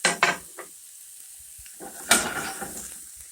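Olive oil heats in a warm pan, with short knocks and scrapes of utensils on the cookware and then a burst of soft sizzling that fades into quiet background hiss.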